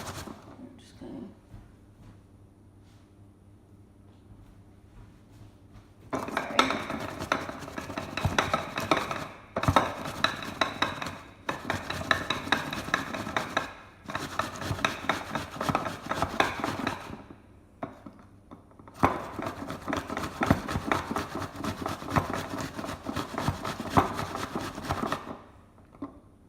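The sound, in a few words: grating an apple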